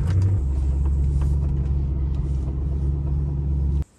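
A BMW M3 E93 rolls into a car workshop, its engine giving a steady low rumble close by that continues evenly and then stops abruptly at the end.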